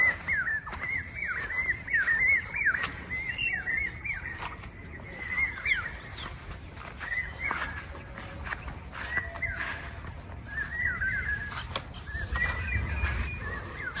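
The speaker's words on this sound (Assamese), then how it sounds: "মোৰ বেকগ্ৰাউণ্ডত গাইজ চাওক কিমান চৰাই মাত আছে" Many birds call and chirp repeatedly across a farm, bright overlapping calls scattered through the whole stretch over faint rustling and low background noise, with no talking.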